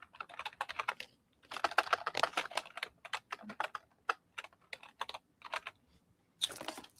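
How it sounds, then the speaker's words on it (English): Fingers type on a computer keyboard in quick bursts of close, crisp key clicks separated by short pauses, with no talking over them. "And we will type in the word."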